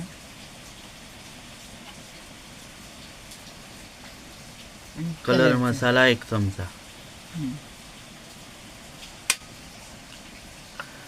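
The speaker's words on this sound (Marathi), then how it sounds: "पाऊस पडतोय बाहेर" Steady rain falls outside in a soft, even hiss while a cook prepares bhaji in a home kitchen. A few seconds of speech cut across the middle, and a faint click sounds near the end.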